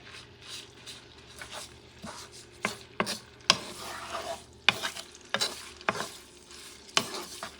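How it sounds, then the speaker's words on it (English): Pork searing in oil in a pot for a stew, a steady sizzle broken by repeated sharp bursts of stirring and scraping, close and moderately loud. "I'm going to cook this pork a little bit, give it that nice color, nice sear"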